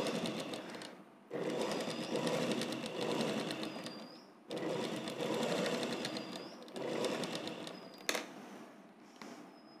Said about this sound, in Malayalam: ഇതിൻ്റെ ഈ അറ്റത്തോട് ചേർന്ന് ഒരു സ്റ്റിച്ചോടും ചെയ്ത് കൊടുക്കുകയാണ്